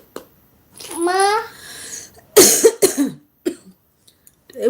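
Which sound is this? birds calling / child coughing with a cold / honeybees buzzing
child coughing with a cold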